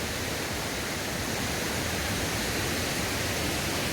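A waterfall seen from a high hillside sends up a constant, broadband roaring rush of falling water, steady and unbroken with no voices.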